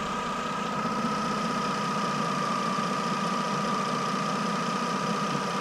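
A car engine idles at a steady, continuous hum during an alternator diagnostic, left running to warm up. The close mechanical drone holds constant throughout, with no voices.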